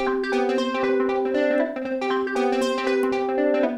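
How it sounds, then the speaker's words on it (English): Synth pluck run through a very fast delay, producing rapid stuttering, glitchy repeats over sustained tonal notes in a chill house style, steady and clear with no talking. "It's a really fast delay set on the free and 40 milliseconds, which gives us this really glitchy sound."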